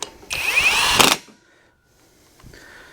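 A Hyper Tough 1/2 inch high torque 20V impact wrench hammers loudly in one burst of about a second, close by, then stops, leaving near silence and faint handling noise.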